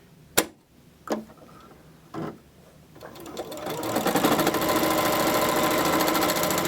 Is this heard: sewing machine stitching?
yes